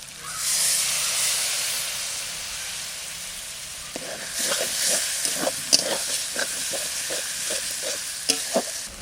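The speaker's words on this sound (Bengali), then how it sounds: "মশলা কষানো হয়ে গেছে, এবার টমেটো দিয়ে দিচ্ছি। একটু জল দিয়ে দেবো।" Tomatoes and water go into a pan of sizzling spice masala, starting with a steady frying hiss, then rapid bursts of crackling and spluttering as the wet ingredients hit the hot oil.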